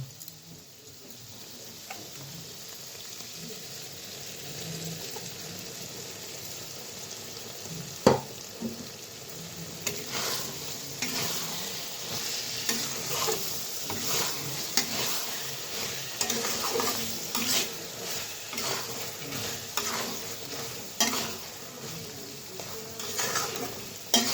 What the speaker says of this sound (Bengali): এখন দিয়ে যে পেস্ট করে রেখেছি মশলাটা দিয়ে দিব